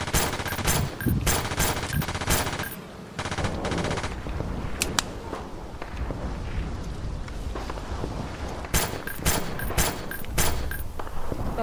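Loud bursts of rapid automatic gunfire in a shootout come in repeated volleys with short gaps between them.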